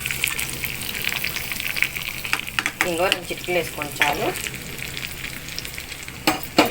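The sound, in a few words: curry leaves and dried chillies sizzling in tempering oil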